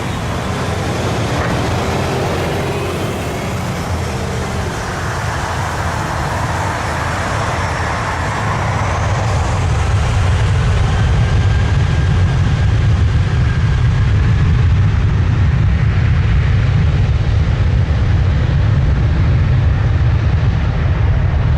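A United airliner's engines spool up and roar steadily down runway 23 at Toronto Pearson on a calm morning, a broad low rumble building and holding loud throughout, with no talk.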